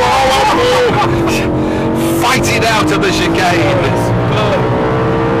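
A standard BMW M3 with a 4-litre engine revs hard through a chicane on the Thruxton circuit, its pitch climbing and dropping between gear changes, loud and close under someone talking.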